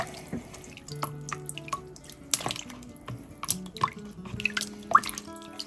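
Cold tap water trickles and drips into a bowl holding homemade butter, with irregular splashes and plinks close by and no talking.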